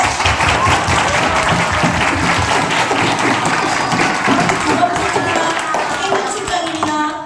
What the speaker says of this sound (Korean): 우리 선생님들을 향해서 박수 한번 쳐줄까요?